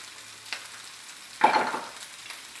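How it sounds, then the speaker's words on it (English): Cold rice is tipped into a hot pan for pineapple fried rice, setting off one sudden sizzling burst that fades over about a second above a faint, steady background hiss. "Now I'm going to add my rice, my cold rice into here."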